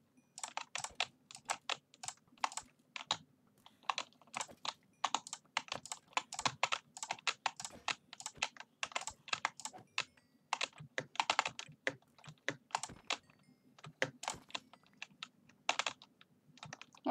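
Rapid mouse clicking while playing Minecraft, a long dense flurry of sharp, close clicks in fast irregular bursts with brief gaps, no talking.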